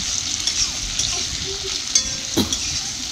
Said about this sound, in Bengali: এগুলো দিয়ে ভালো করে নেড়ে চেড়ে নিবে। এই দেখো নেড়ে চেড়ে নিল ভালো করে।